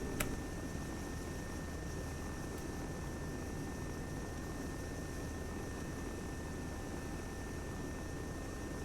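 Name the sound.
helicopter in ARMA 3 video game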